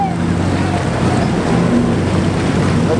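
Fishing boats heading out to sea at the start of a deep sea fishing tournament off Sosua, Dominican Republic, with a loud, steady engine drone mixed with heavy wind rumble on the microphone.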